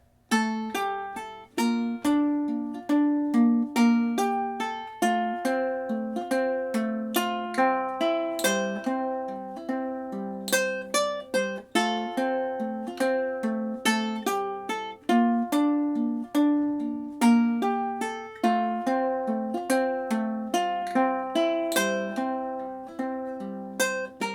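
A guitar plays a steady, rhythmic melody of plucked notes over a bass line, close and clear, continuing for a long stretch without any voices.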